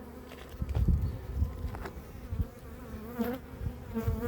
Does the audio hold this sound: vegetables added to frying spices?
no